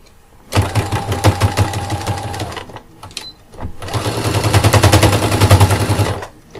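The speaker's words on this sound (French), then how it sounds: "Et je fais donc une couture d'arrêt ici aussi." A sewing machine runs two fast, steady stitching bursts while sewing a reinforcing backstitch on a fabric backpack, with a short pause between them that holds a brief click. The whirring is loud and close, and no one speaks.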